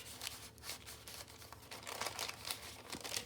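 A paper bag crinkles and rustles as it is handled, soft continuous crackling with a few sharper crisp bursts, faint and close, with no talking.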